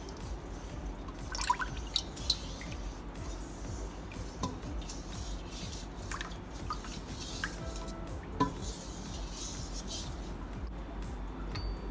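A spoon stirs raspberry juice and pectin crystals in a pot, making faint irregular clinks and ticks against the metal with soft liquid sloshing, close by and quiet.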